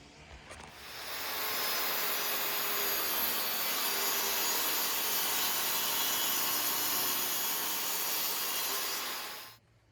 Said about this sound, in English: So before I screw it in, I'm gonna have to shave it down this much.